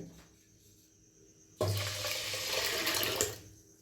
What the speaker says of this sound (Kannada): ಈಗ ನೋಡಿರಿ, ಇದಕ್ಕೆ 4-5 ಗ್ಲಾಸ್ ನೀರು ಹಾಕ್ತೀನಿ ರೀ.